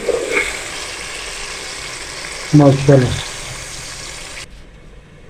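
Water is poured into a pot of spiced fried potatoes and peas for pulao, a steady rushing hiss with a short sizzling surge midway before it cuts off, and a brief spoken word near the start.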